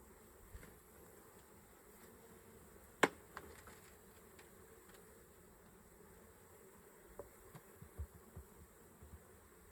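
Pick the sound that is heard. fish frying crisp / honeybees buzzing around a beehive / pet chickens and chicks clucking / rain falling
honeybees buzzing around a beehive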